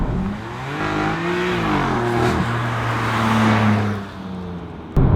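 A BMW M4 with stock exhaust revs up and down with a deep, rising and falling exhaust drone, loud and close, then settles before a sharp click at the end.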